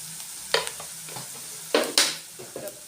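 Vegetables being stirred and sautéed with spices in a pan for gobi manchurian, a soft sizzle under a few scraping stirs of a spoon against the pan, close and fairly quiet.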